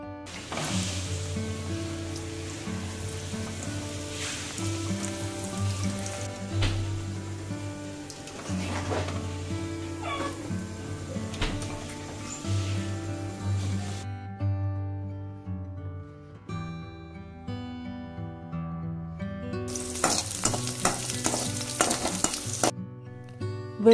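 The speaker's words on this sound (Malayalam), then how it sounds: "ഒരു പാനിൽ എള്ളെണ്ണ ഒഴിക്കുക. അത് നന്നായി തിളച്ചതിന് ശേഷം അതിൽ ഈ ഉണങ്ങിയ മാങ്ങയിട്ട് നന്നായി വറുത്തു കോരുക." Dried mango pieces fry in hot sesame oil in a pan for a mango pickle, giving a steady, close sizzle that runs throughout under a tonal musical background, with a brighter burst of crackling near the end.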